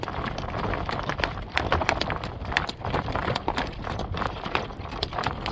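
A ridden horse's hooves clip-clop on a cool morning outing, a brisk, steady rhythm of close, distinct strikes that continues throughout over a soft outdoor background.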